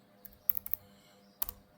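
A handful of sharp computer keyboard clicks as a value of 400 is typed into material properties in ETABS structural software, a few close, quiet keystrokes in quick bursts separated by silence.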